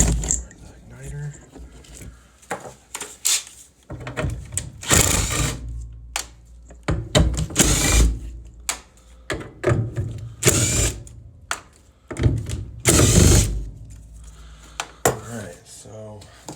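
Tools clank, ratchet and scrape in loud, close, irregular bursts as a bracket is removed from a Coleman furnace in a mobile home during an igniter replacement, with someone talking between the bursts.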